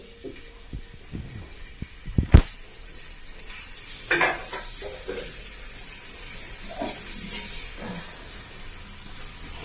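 Ginger frying in hot coconut oil in a pan, with a loud metallic clank of cookware and utensils scraping and stirring, then a soft continuous sizzle underneath.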